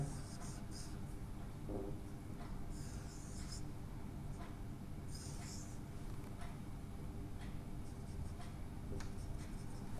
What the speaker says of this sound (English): For photochemical, I have to draw the same diagram.